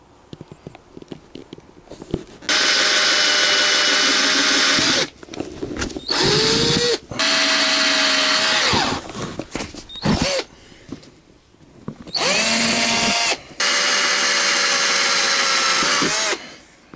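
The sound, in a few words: power drill drilling mounting holes for motorcycle bag mount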